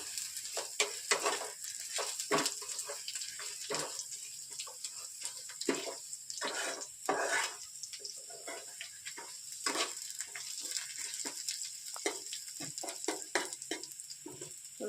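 Garlic frying in a pan for palak paneer gives a close, steady crackling sizzle with irregular sharp pops scattered throughout, and no voices.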